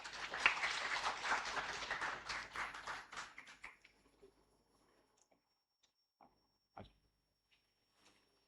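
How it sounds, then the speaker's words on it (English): Soft applause at a medical conference on point-of-care ultrasound, a modest audience clapping for about four seconds, then fading to quiet with a few isolated taps and knocks. "A well-deserved round of applause for Dr. Kundan, sir"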